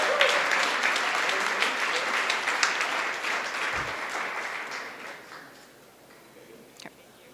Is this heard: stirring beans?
no